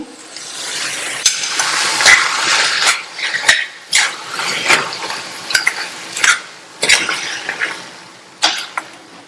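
A spoon scrapes and stirs through a thick gravy in a pan, with repeated clinks against metal and a faint sizzle underneath.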